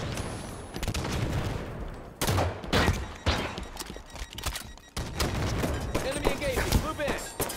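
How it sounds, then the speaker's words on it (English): Sniper rifle shots fired in a video game, a few sharp loud cracks spaced apart amid dense game noise and other gunfire, with a voice speaking over it. "Switch into a sniper rifle."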